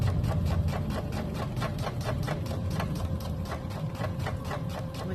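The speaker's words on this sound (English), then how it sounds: "on this Brother machine there's a backwards stitch" A Brother sewing machine stitches a pant hem, a steady rapid mechanical chatter that runs close and continuous throughout.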